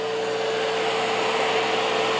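A YikTOL vacuum dog grooming kit runs while brushing a dog, producing a steady, loud motor whir with an airy rush and a constant tonal hum, heard alone without talking.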